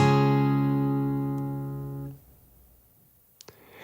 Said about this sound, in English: Strum all the strings in this chord and it sounds like this.